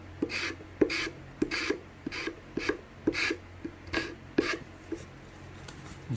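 Short, rhythmic wood scraping strokes come from fitting a dovetail mortise and tenon joint, about a dozen close, even rasping passes with brief gaps between them and no talk.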